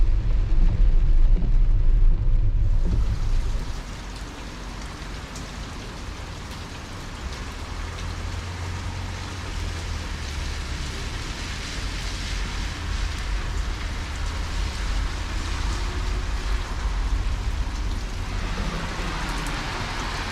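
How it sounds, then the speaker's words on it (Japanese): Heavy rain falls outside a camper van, a steady dense hiss of drops drumming on surfaces that sounds fairly close and continues without pause after a brief louder rumble at the start, with no talk. "でもすごい雨やな"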